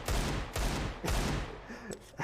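Bursts of automatic rifle fire, including an AK, in a Counter-Strike: Global Offensive match, with three loud rapid volleys followed by fainter scattered shots and clicks.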